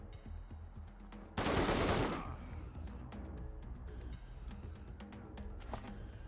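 Gunfire in the video game Wasteland 3: a single loud, sharp burst of shots, followed by quieter game ambience and small clicks with no talking.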